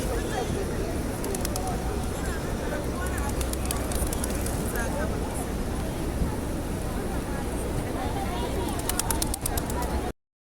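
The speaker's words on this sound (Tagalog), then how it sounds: "nagbibideo na lang ako sa mga kalapati" Pigeons cooing outside the Grand Mosque in Makkah, soft and continuous within a dense outdoor crowd babble and open-air hubbub, the birds faint and blended rather than distinct.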